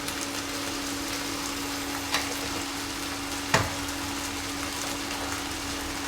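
Prawns frying with salt in a hot pan, a steady, dense sizzle throughout, broken by a couple of brief knocks.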